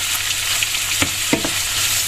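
Steady, close sizzling of beef frying in a big pan for beef bourguignon, a broad crackling hiss with a couple of brief clanks from a utensil.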